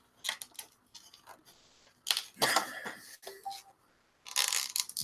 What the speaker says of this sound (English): the scissors won't cut through the plastic.